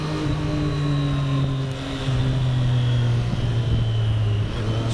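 A Triumph Street Triple 765 R motorcycle on the move, its engine droning steadily and loudly with a slight pitch dip and rise partway through, heard close up without voices.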